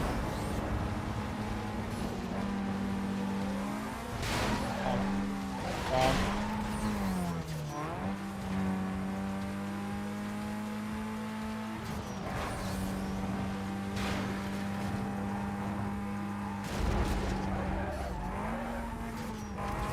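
A Mazda RX-8 with catastrophic suspension failure driving in Need for Speed Most Wanted, its engine note rising and falling steadily while tires skid and squeal in repeated bursts, with a voice talking over it throughout.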